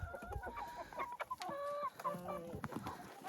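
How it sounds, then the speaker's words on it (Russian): Hens cluck and call in quick overlapping bursts as they are fed grated raw beetroot, close and moderately loud, with scattered pecking and shuffling between calls. "Даю своим курочкам буряк."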